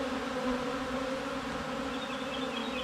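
Honey bees swarm around an open hive during harvest, lightly smoked on a wet day after rain, giving a steady, dense buzzing hum that fills the whole stretch without pause, close and fairly even in loudness.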